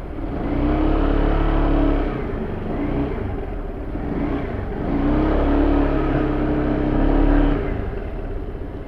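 An FKM Slick 150 motorcycle engine runs loud and close, rising and falling through a couple of revving surges over a steady rumbling idle.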